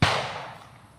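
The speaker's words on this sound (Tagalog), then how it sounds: "Yan, medyo may putukan, no. December na kasi ngayon." A homemade tin-can firecracker cannon (buga) goes off in a rural province during December, one sharp booming blast that rolls away into a fading rumble.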